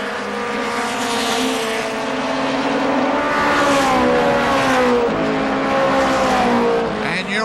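Race trucks on the final lap at KilKare Speedway, a 4th of July event, howl past loudly, engines rising and falling in pitch as they sweep by close.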